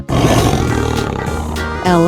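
A tiger roars in a 3D animal slide game, a loud, sustained growling roar over game music, rising again near the end.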